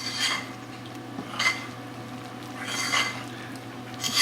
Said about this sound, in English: Using my big fork, I'm just going to mix it together.